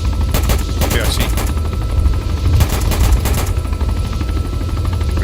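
Bursts of rapid gunfire in the military shooter Arma 3, a squad firing on a quick reaction force near a compound, with two loud clusters of shots over a steady background rumble.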